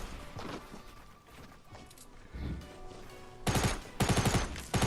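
Gunfire in the Fortnite Battle Royale video game comes in scattered shots, and then two loud, close bursts arrive near the end.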